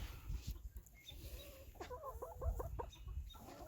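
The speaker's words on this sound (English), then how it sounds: "Here's our chickens working our compost." Backyard chickens scratch and work through garden compost inside a pen of sheep fencing and hardware cloth, giving off a steady run of soft, close clucks and short chattering calls over faint rustling.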